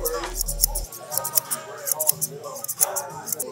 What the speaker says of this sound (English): excuse me, shear over comb.